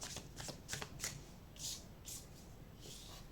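Cards shuffled for a tarot-style card reading, a series of soft riffling bursts with brief papery flutters, fairly close and quiet, with no voices over them.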